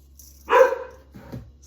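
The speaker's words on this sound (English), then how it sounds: "somebody's walking by with a doggy" A dog being walked past outside gives one short, fairly near bark followed by a couple of softer yips, heard over a quiet room hum with no talk.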